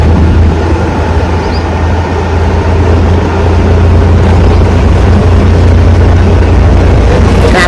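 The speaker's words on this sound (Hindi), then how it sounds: "मजा आता है चलाने में एक्टिवा।" A Honda Activa scooter runs along a quiet country road past fields, its engine hum and road rumble steady and close under loud wind noise, with no one talking.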